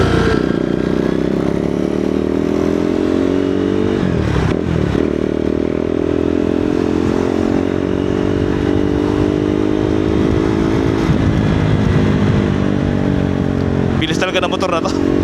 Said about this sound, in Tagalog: Talaga na motor na to. Hindi ka bibitinin